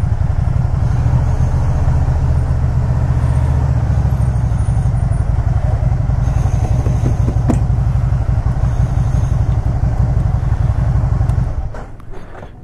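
A Can-Am Spyder RT three-wheel motorcycle engine idles close by with a steady, deep, loping rumble that holds throughout, then softens at the very end.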